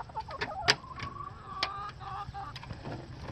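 Hens in a backyard flock cluck and squawk close by near their coop, with short irregular calls and a few sharper peaks over faint background noise.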